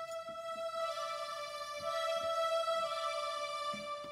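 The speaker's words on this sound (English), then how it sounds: "I've chosen a voice which is called Equinox for the right hand" A bright electronic keyboard synth voice called Equinox plays a sustained melody, its smooth notes gliding over soft, faint percussive ticks underneath.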